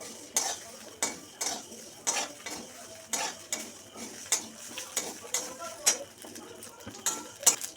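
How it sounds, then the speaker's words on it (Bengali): Vermicelli is stirred while frying in ghee in a wok. A steady series of scraping spoon strokes comes about every half second, close and crisp. "ঘিটা দিয়ে একটু ভাজা ভাজা করে নেবো"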